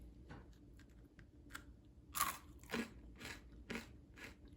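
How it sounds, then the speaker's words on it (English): Someone bites and chews crunchy, low-calorie peanut butter granola made without oats. Several sharp, close crunches come at irregular intervals over soft chewing, with no talking. "It is crunchy like real granola."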